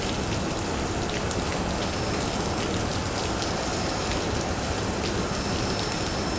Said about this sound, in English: looks like you've got quite the rainstorm there. It's coming down.